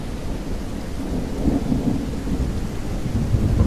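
Thunder rolls through a zombie survival game storm, a steady deep rumble swelling midway over a constant rainy hiss, with no voices.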